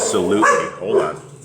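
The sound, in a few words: dogs barking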